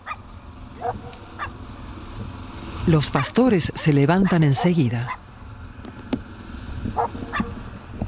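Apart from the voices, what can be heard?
dogs barking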